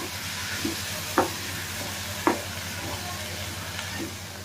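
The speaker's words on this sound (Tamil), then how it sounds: "எல்லாத்தையும் நல்லா வதக்கிக்குவோம்" Mudakathan keerai greens sizzle softly in a hot pan with a steady hiss, broken by a few sharp scrapes of a spatula stirring.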